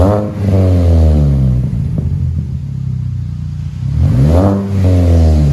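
A 2006 Mini Cooper 1.5L engine revs through a DTM muffler exhaust, rising and falling in loud, close blasts with a rumbling idle dip in between and no talking.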